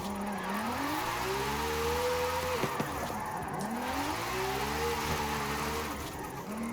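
Mercedes CLK GTR engine in the racing game Forza Horizon 5, revving up through the gears with rising whine, a sharp shift, then climbing again in a second long pull, loud and without talk.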